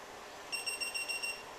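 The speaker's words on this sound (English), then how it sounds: "And you'll hear it beep, and you'll see it go from red to green" A SwitchBlade battery charger's small electronic beeper gives a quick series of about six high, thin beeps, faint and close against a quiet background.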